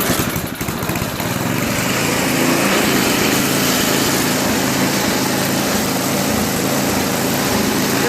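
A Toro 521 two-stage snowblower with a Tecumseh engine runs steadily on choke, a loud, close, unbroken high-pitched engine drone with no one talking.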